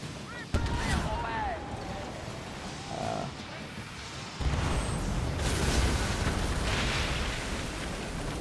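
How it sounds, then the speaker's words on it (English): Explosions and ship combat in the pirate video game Skull and Bones, a deep sudden boom followed by sustained rumbling blasts and windy roar, loud and continuous over several seconds. "Oh yeah, explosions."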